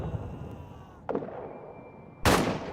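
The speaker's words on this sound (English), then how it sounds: "Damn explosions." Artillery shell explosions in a WWI trench warfare video game: a sharp blast midway, then a louder, broadband explosion near the end, over a low rumbling battlefield background with no talk.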